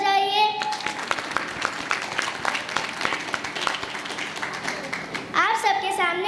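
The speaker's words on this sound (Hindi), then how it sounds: "पहले तालियां तो बजाइए" Applause from an audience at a school annual function, brisk clapping running under and between stretches of talk, with voices audible at the start and near the end.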